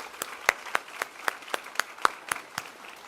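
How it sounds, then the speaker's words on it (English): Scattered, evenly spaced single claps ring out at a ceremony honoring the Illinois DCFS director, steady and fairly close, in a quiet hall with no crowd roar. "Can we give her a big round of applause?"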